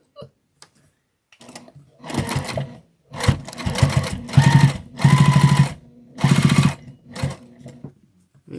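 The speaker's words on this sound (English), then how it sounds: "I'm just going to top stitch 1/8 of an inch in" A sewing machine top stitching fabric for a Christmas car trash bag, running close and loud in five or six short bursts separated by brief pauses.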